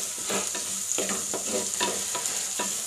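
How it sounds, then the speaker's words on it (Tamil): Shallots stirred as they fry in a pan for sardine curry, a close crackling sizzle with a regular rhythm of spatula scrapes and stirs. "கலக்கி விடுங்க."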